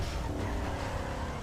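Car engine roar from a drifting vehicle in GTA NoPixel, a steady, loud, continuous rumble held at close range for a brief stretch.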